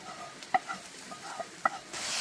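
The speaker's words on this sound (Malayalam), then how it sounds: "ഇത് നന്നായിട്ട് അങ്ങോട്ട് മിക്സ് ചെയ്യണം" A spoon scrapes and stirs a thick fried masala in a pan for quail and millet biryani, with a couple of sharp clinks against the metal and a soft sizzle underneath.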